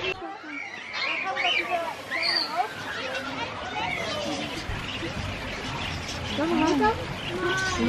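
Small birds at a zoo chirp and call loudly and continuously, a busy chorus of overlapping tweets with people chattering in the background.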